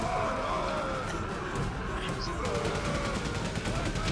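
Rapid machine gun fire in the World War I video game Valiant Hearts rattles steadily over dense battlefield rumble and explosions, with a voice talking over the din.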